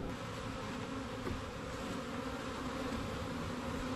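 Honeybees buzz steadily in an open hive crammed with brood, honey and pollen, the dense drone holding at an even level throughout with no voices.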